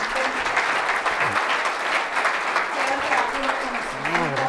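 A conference audience at Tecmilenio Ciudad Juárez applauds, with dense, sustained clapping from a crowd filling the room throughout.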